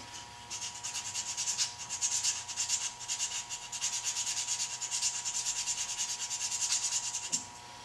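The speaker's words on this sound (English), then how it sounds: "I usually do this part with the grain so that the sandpaper scratches don't show up quite as much." Sandpaper rubs along the grain of a wooden door stop in quick rhythmic back-and-forth strokes, a close, fairly quiet scratchy hiss over a faint steady hum, with no talking.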